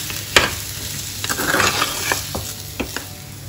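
Masala of garam masala, coriander powder, turmeric and salt being stirred and fried in a pan, a steady sizzle punctuated by several sharp scrapes and taps of a spoon against the metal, close and fairly loud.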